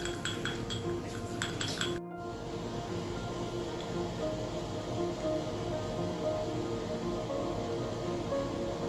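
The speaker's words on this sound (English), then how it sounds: "I will whisk the product until it becomes milky white." A facial exfoliator product being whisked in a small bowl during a facial treatment, starting with a few light clinks against the bowl, then a steady close whirring and swishing that runs on without talking.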